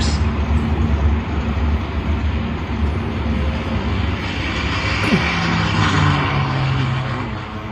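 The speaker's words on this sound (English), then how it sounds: "Turned his carriers into the wind and launched his planes." World War II Japanese fighter planes taking off from aircraft carriers, a loud continuous roar of aircraft engines with a brief pitch sweep midway, sustained and close throughout.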